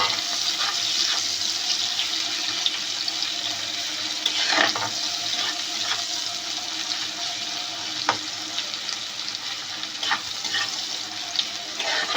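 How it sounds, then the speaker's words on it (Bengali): Onions frying in the oil left over from frying potatoes give a steady, close sizzle with occasional soft stirring clicks throughout. "পেঁয়াজ দিয়ে দিচ্ছি, দেখুন তেলে, আলু ভাজার তেলটাতে।"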